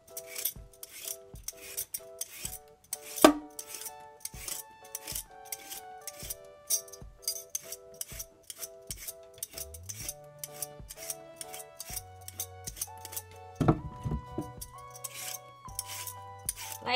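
Someone peels a carrot or pear for juice, giving quiet, rhythmic scraping strokes close by, with faint kitchen clinks and a soft tonal hum in the background.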